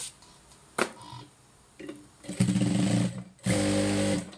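Domestic sewing machine stitching fabric in a few separate bursts, each with a steady mechanical whir and fast rhythmic needle ticking, close and fairly loud, with short pauses between runs.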